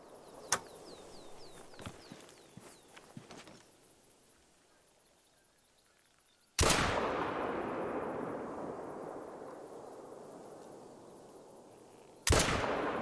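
A Kullman .22H rifle fires in the hunting game theHunter: Call of the Wild, with a few small clicks followed by two loud, sharp shots several seconds apart, each trailing off in a long echoing decay.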